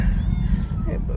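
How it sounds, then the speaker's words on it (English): A sick cat lets out whiny, drawn-out meows up close, with a strained and wavering tone that rises and falls across the moment. "I don't understand why he's meowing so much."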